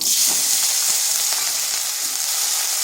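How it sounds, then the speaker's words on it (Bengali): Nigella seeds, a dried chilli and potato frying in hot oil in a pan, giving a steady bright sizzle with a few small crackles, close and continuous with no voices. "ওই তেলের মধ্যে দিয়ে দিচ্ছি কালো জিরা দিয়ে দিচ্ছি একটা লঙ্কা শুকনো লঙ্কা আর দিচ্ছি একটা আলু"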